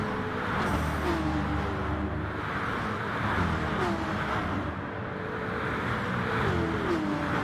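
A race car engine in a racing video game, rounding a hairpin, drones steadily and loudly throughout, with pitch sweeps rising and falling as the car brakes and accelerates, with no talk over it.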